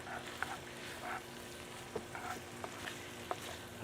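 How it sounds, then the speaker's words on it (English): Mushrooms, diced shallot and red pepper sizzle steadily on a Weber kettle grill, with a constant crackling fry broken by a few sharper pops and utensil scrapes. "I'm just going to cook this up till the mushrooms get soft, the shallot gets soft"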